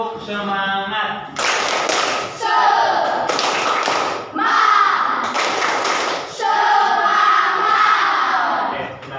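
A classroom of students does a rhythmic spirit clap, loud unison bursts of claps and thumps in a set pattern with group shouts and voices between the rounds.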